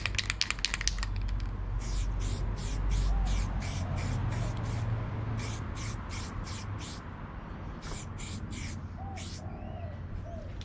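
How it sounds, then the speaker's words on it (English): Repeated short bursts of aerosol spray paint being sprayed onto a handbrake in light coats, each hiss lasting under a second, close and fairly loud, with a low steady hum and faint bird calls in the background. "Okay, now it's spraying a bit better."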